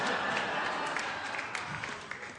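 A comedy club audience claps during a stand-up set, scattered, fairly faint applause that trails off gradually.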